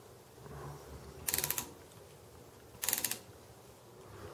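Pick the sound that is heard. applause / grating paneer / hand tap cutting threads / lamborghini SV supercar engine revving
hand tap cutting threads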